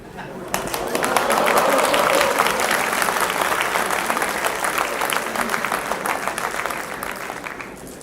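Audience applause fills a start-up expo hall, swelling quickly to a dense, steady roar of clapping that holds strong before slowly thinning out, with crowd voices mixed in.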